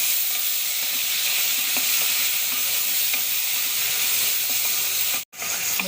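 Mint leaves and green chillies sizzle in hot oil for a mushroom dum biryani, a steady close frying hiss with faint stirring clicks, cut by a brief drop near the end.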